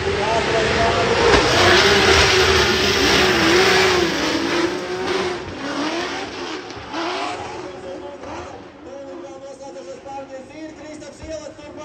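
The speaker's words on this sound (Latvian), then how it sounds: "Abiem diviem samērā ātras automašīnas, labs iemetiens." Race cars at the Riga baby final accelerate hard from the start, loud engines revving and fading with rising pitch sweeps as a commentator talks over them.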